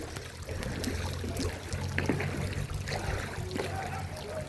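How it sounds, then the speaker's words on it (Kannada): Heavy monsoon rain falls steadily in a riverside temple village, a dense continuous wash of water with scattered splashes and drips, with someone talking over it throughout. "ಕೊಡೆ ತಗೊಳ್ಬೇಕಾಗುತ್ತೆ, ಮಳೆ ಜೋರ ಆಯಿತು."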